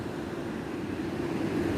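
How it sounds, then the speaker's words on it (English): Atlantic Ocean surf washing onto a beach on a gray, quiet day, a steady broadband wash with wind rumble on the microphone, no voices. "This is the Atlantic Ocean."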